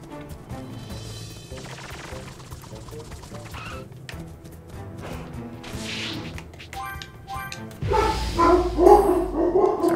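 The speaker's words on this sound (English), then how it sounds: "Sorry, dogs are barking." Several dogs bark in a busy household during Xbox Series X gameplay of Dragon Ball Z: Kakarot, with the barking mixed under game music and effects and growing louder and denser toward the end.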